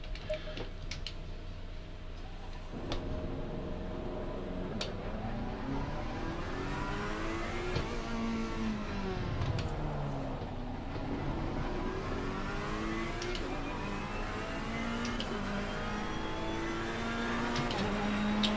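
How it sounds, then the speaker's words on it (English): Ferrari GT3 race car engine in the racing game Assetto Corsa Competizione at Paul Ricard, revving up and down through gears in a steady sustained drone with rising and falling pitch sweeps, continuous and fairly loud with no talking. "I feel like this car should rev for like 300 or 400 more RPM and it would sound a lot better."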